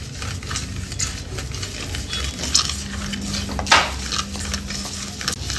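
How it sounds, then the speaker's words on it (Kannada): Mustard seeds and spices fry in a pan for pork pickle, with a light sizzle and crackle under clinks and scrapes of a spoon stirring against the metal, close and steady. "ಸಾಸಿವೆ ಎಲ್ಲ ಚೆನ್ನಾಗಿ ಚಿಟಪಟ ಅನ್ನಬೇಕು. ಅಲ್ಲಿ ತನಕ ಫ್ರೈ ಮಾಡ್ಕೊಳ್ಳೋಣ."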